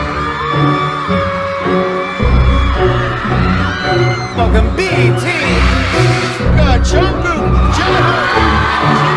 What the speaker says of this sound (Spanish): Estos gritos de emoción por ver a sus ídolos